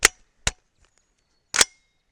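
A 300 Blackout rifle fires subsonic powder-coated reloads, three sharp close shots, two quickly together and a third after a pause, each clean and short with quiet between.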